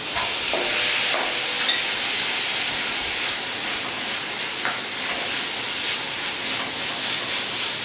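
Finely chopped tomatoes go into a frying pan with onions and curry leaves for a curry leaf chicken roast, giving a steady, loud, hissing sizzle throughout with occasional soft stirring scrapes.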